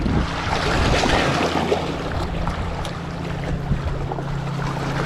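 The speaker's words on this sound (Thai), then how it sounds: "หมายนี้ลมค่อนข้างจะแรงนิดนึงครับ" Strong wind buffets the microphone at a fishing spot on open water, a continuous loud rushing roar with a faint steady hum underneath and no voices.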